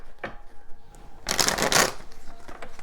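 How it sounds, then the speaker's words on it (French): Tarot cards being shuffled, a quick papery riffle and flutter that swells loudly for about a second amid light handling noises, with no talking. "On va remélanger un petit coup, je le sens bien."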